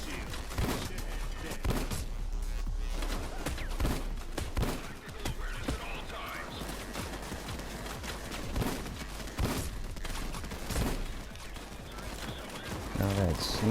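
Gunshots ring out in a video game match with snipers, a run of sharp cracks and bursts scattered over the whole stretch at mid-to-close range, with a voice speaking over the action at times.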